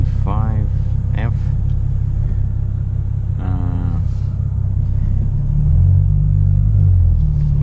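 A 2017 Ford Mustang merges onto the freeway on a hot day with the air conditioning running, a loud, constant low road and engine rumble inside the cabin, with a few brief voice sounds early on.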